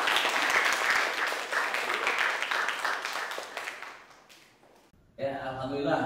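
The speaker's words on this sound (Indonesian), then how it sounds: "Iya, tepuk tangan buat kalian semua." Students in a classroom applaud together, loud dense clapping that gradually thins and fades, then a pause before a voice begins speaking.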